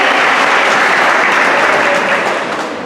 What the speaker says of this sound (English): give them a big round of applause for the girls' win team